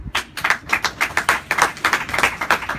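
Rapid, steady clapping of hands, close and fairly loud, with sharp even claps about four or five per second continuing throughout with no talk.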